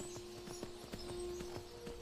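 A horse's hooves clip-clop at a steady riding pace in Skyrim on the way toward High Hrothgar, faint and even beneath a low constant hum, with no voices.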